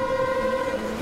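A train rumbles past with a steady sustained tone like a horn or wheel squeal, loud and close, with no voices.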